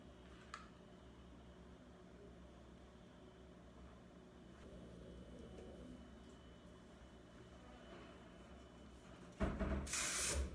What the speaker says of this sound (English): Now I'm just adding texture spray into it to give it more texture